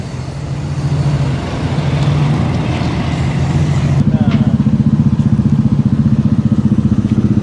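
A Sherco adventure motorcycle idles in the Dakar Rally pits, its close, steady engine rumble turning into a louder, rapid pulsing throb halfway through, with other noise around it.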